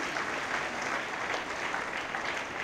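Audience applause fills a hall at a 60th birthday celebration, a steady, dense clapping from a large crowd sustained throughout without pause.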